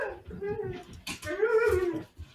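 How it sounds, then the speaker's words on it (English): A husky dog whines and whimpers in long, wavering, high-pitched cries close to the microphone, with a brief break in the middle and a person talking faintly underneath. "Nope, that's my husky."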